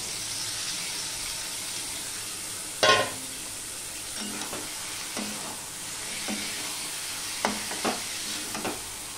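Yogurt-marinated chicken drops into hot oil in a pan over a medium-high gas flame with one sharp hiss, then a soft steady sizzle broken by occasional spatula scrapes and clinks.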